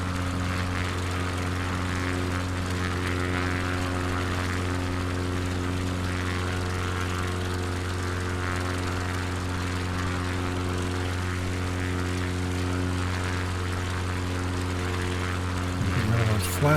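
Steady propeller-aircraft engine drone from a bush-flying takeoff roll in Microsoft Flight Simulator 2020, set in Patagonia, holding loud and constant throughout with strong low harmonics, while a person talks over it.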